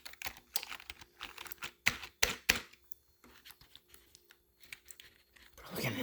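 Keys clack on a brand-new Corsair K55 RGB Pro keyboard in quick irregular bursts of typing, close and fairly quiet, with short pauses between runs.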